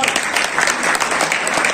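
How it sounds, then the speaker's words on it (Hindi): Loud, dense applause from a crowd at a Samajwadi Party workers' gathering in Kiratpur, sustained and even throughout without a break. "जोरदार तालियां भाई एक बार"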